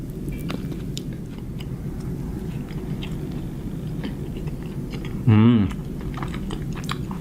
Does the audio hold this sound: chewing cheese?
yes